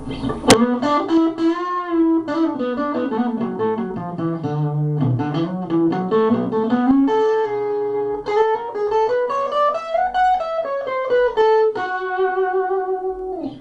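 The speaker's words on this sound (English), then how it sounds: "Now this would be more what I would consider an overdrive" A solo electric guitar through a blues-style overdrive pedal, warm overdriven tone, plays a sliding, bending melodic line, sustained and fairly loud, with no voices.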